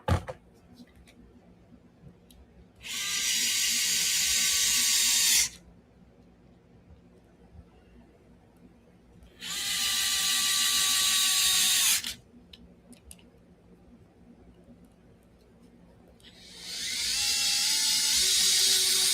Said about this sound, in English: now you put your 3 screws in to hold the case together